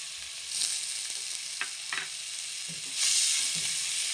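Capsicum frying in a hot pan with cinnamon and cloves for green rice, a continuous near sizzle that swells louder with a few soft stirring knocks, and no voices.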